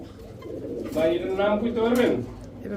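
A red-necked pigeon in a breeding pair cooing in a few soft, rolling calls at close range, with a low background hum.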